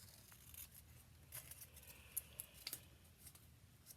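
Paper scissors cutting out a paper image for a handmade card, a few soft, crisp snips at close range over a quiet background with no speech.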